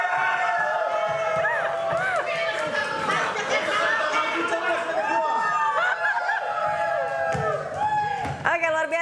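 A crowd of campaign supporters at an Indonesian regional election debate chants and shouts a campaign cheer, a dense and steady mass of voices with whoops and rising calls. It is loud throughout.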